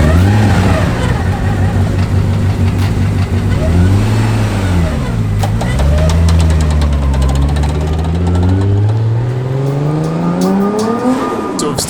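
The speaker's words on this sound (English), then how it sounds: "So not only is timing belt sort of whining, the transmission is also whining, which makes this thing sound horrible just sitting at idle." A Nissan R32 sitting at idle gives a loud, close engine drone with a timing belt whine and transmission whine, the pitch wavering up and down steadily throughout.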